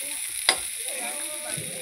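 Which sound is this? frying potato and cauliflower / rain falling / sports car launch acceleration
frying potato and cauliflower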